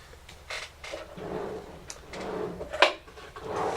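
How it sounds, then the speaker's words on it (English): A drawer is rummaged in, opened and closed, giving a series of close, soft sliding scrapes and bumps with one sharper knock near the end. "I think it's in the drawer straight ahead"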